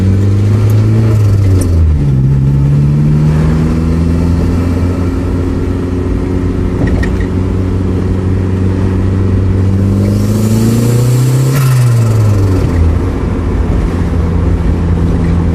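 Turbocharged Mazda MX5 engine pulling hard from about 20 mph in a high gear, a loud, steady close drone whose pitch climbs smoothly, dips briefly at a gear change near the start and again later, with no talking.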